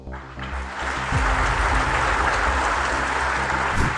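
Audience applause at a talk by RSS chief Bhagwat marking the organisation's 100 years, a steady loud wash of clapping from a large crowd that swells after the first second and holds, with a low droning hum underneath.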